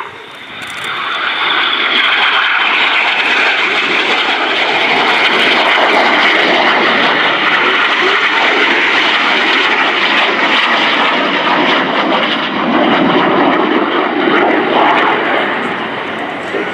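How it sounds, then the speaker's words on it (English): Red Arrows jets flying barrel rolls at the RIAT air show make a loud, sustained jet roar that swells in quickly and holds strong, close overhead, for most of the clip. "with a closing speed of over 700 miles an hour, the jets pull towards each other"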